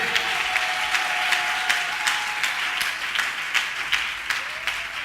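A church congregation claps loudly and steadily in sustained applause, with a few sharper claps standing out over the dense crowd noise and a faint voice briefly audible underneath.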